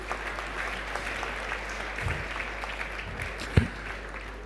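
Scattered audience clapping fills a conference hall at a Nigerian economic summit, a moderate sustained patter with a few louder claps and a brief thump near the end.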